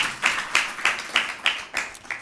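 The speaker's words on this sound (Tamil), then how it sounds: "கைத்தட்டி கர்த்தரை மையப்படுத்தலாமா?" A church congregation claps hands together in a steady rhythm of about eight sharp, reverberant claps, fairly close and loud, with no talking over them.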